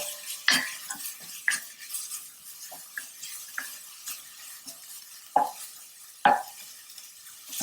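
Onion stirred in a pan while cooking quinoa, a series of irregular spoon scrapes and knocks against the pan over a faint sizzle, close and without talk.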